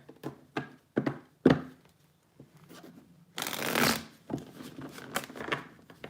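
Tarot cards being shuffled by hand up close: a run of crisp separate riffles and taps, then a longer continuous flurry of card shuffling, followed by more scattered light riffles with no talking.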